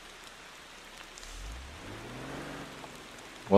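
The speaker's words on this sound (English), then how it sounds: "Oh, it's raining." Steady rain falling in the Motor Town: Behind the Wheel driving game, a soft hiss of drops with a low engine rumble rising underneath, faint and continuous.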